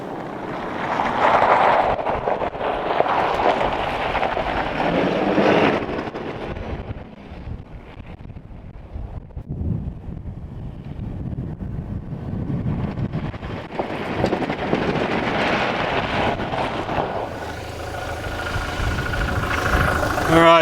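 Strong wind buffeting the microphone on the beach at Sandy Cape, WA, a steady loud roar with gusts rising and easing throughout, with a voice speaking over it near the start and end.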